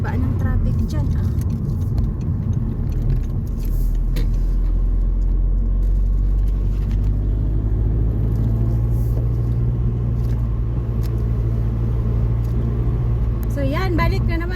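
Steady road traffic rumbles past continuously, with a heavy low drone of cars and larger vehicles throughout and a brief fluttering engine note near the end.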